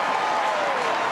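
Crowd applause erupts after a goal at a 2019 AFLW football match between Collingwood and Melbourne, a steady, loud wash of clapping and cheering from the stands.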